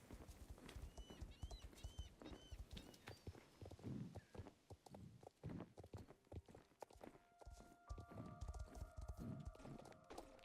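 Horse hooves in the video game Star Stable clip-clop steadily on hard ground, close and fairly loud, with a couple of short tonal chimes sounding near the end.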